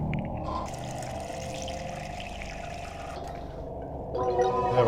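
A character drinks water in the horror game Haunting Ground, a short gulping, gargling stretch of liquid sound that runs for a few seconds with a faint voice underneath.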